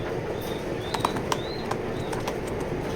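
Racing pigeons at a loft give scattered soft coos and brief chirps over a constant noisy background, heard at moderate distance with no speech.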